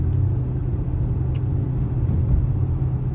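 A Camaro RS engine rumbles steadily at idle, a low, constant drone close by with no voices.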